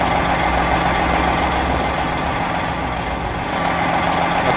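A Western Star 49X truck idles in Euro Truck Simulator 2, its engine giving a steady, loud, low rumble that holds even throughout with no break.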